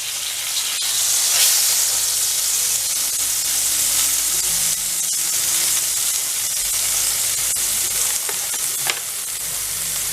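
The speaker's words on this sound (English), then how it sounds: "We're just browning it." Beef browns in a hot, oiled pan with a loud, steady close sizzle and hiss, broken by occasional utensil knocks and shifting spits, with no speech.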